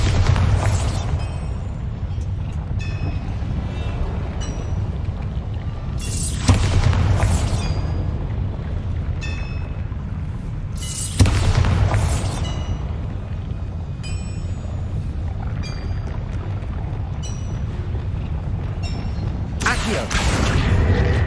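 Repeated heavy booming blasts from the Bombarda spell in Hogwarts Legacy, several loud explosions spaced seconds apart over a constant low rumble of game noise and music.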